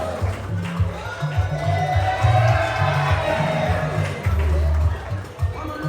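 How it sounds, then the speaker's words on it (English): A party crowd at a Christmas gathering of the Orlu Senatorial Zone Association cheers, whoops and claps for a pageant contestant, a busy, sustained roar of many voices at moderate distance. "Give her a round of applause."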